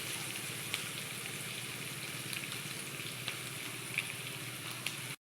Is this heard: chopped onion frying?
yes